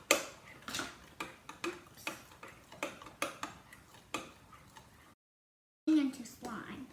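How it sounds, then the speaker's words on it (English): A utensil stirs slime mixture in a measuring cup, making steady, evenly spaced clicking taps against the cup's sides, a brief pause, then more scraping. "Let's stir it in."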